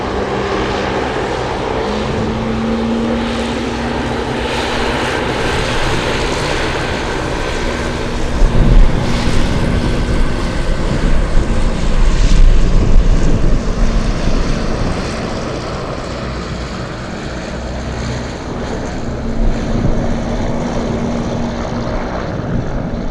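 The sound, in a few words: FedEx Boeing 777 starting up its engines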